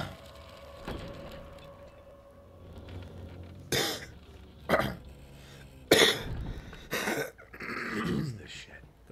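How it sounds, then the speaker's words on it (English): A sick person coughing while playing Resident Evil 7, several sharp, harsh coughs and throat clearing in irregular bursts, close to the microphone, with quieter game sounds underneath. "That's a lot of coughing."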